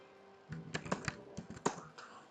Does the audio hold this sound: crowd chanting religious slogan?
no